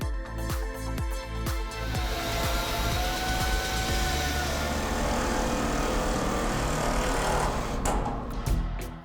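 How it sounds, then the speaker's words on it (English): A power saw grinds steadily through a fibreglass Scamp trailer shell to cut window openings, with a few sharp start-up bursts, then a continuous loud whine and rumble throughout. "it's time to cut some windows because you gotta have a view"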